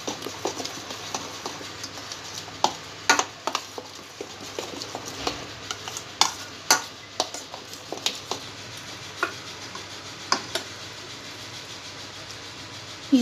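Cream and yogurt being stirred together into a marinade for mutton, with a spoon clinking and scraping against the bowl in irregular taps and short scrapes, close and fairly quiet, no talking.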